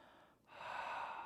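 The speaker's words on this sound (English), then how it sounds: "This is the sound of the exhale. It's kind of like fogging up a glass" An ujjayi yoga breath, exhaled through a constricted throat with the mouth closed: a brief intake, then a steady, close, airy rushing exhale like fogging a glass, soft and unbroken.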